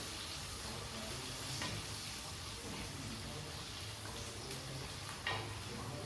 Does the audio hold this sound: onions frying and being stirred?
yes